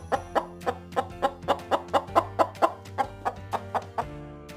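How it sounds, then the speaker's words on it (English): A chicken clucks in a steady run of about fifteen short, even clucks, close and clear with no talking, ending in a slight trailing sound. "Chickens go cluck, cluck, cluck."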